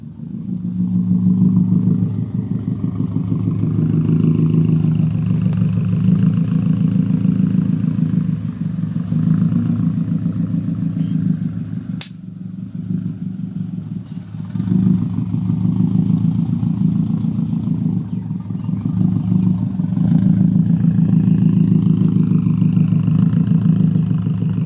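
A motorcycle fitted with new angle-cut, polished blast pipes runs up close, its loud exhaust holding a steady rumbling idle with brief dips and small revs throughout.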